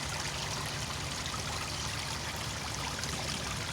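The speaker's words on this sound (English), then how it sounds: "I don't know if you guys can hear the sound of the water, but it's just so peaceful." Water flows and trickles steadily in an outdoor garden fish pond with a filter, a constant close splashing stream that runs unbroken throughout.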